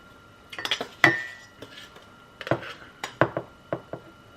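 Tablespoon clinking and scraping as it scoops ground coffee into a cup, a series of close, sharp metallic taps and clinks spread irregularly over a few seconds.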